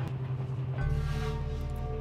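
A train rumbles steadily nearby, a sustained tonal horn-like drone rising over the continuous rolling noise.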